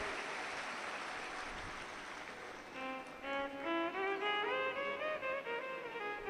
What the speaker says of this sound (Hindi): एक बार जोरदार ताली बजाएं बाबा जी के लिए जो पधारे।